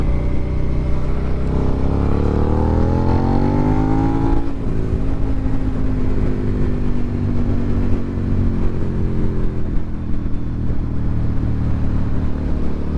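A Suzuki SV650 motorcycle ridden on an evening road, its engine note climbing steadily as it accelerates through the first few seconds, then settling into a loud, sustained drone with constant wind rush and no voices.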